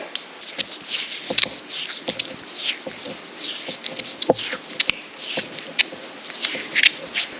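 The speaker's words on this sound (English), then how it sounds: "I am going to wrap it with this tape, Tessa tape" Tesa cloth tape is pulled and wound around a car wiring loom, giving a close, irregular series of crinkly rustles and sharp tearing ticks with no talk.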